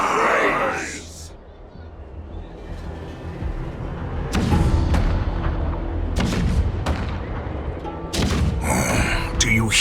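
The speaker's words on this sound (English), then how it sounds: "The rumble of the cannons." Cannon fire rumbles in the Honkai: Star Rail video game, low booming thuds and distant blasts rolling under a narrator's voice, with a few sharp cracks standing out.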